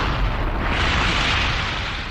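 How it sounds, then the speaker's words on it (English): Bomb explosion in a military test, a loud sustained roaring blast with a rushing hiss that swells in the middle and holds for about two seconds, no voices. "This film of a military test shows what happens during an explosion."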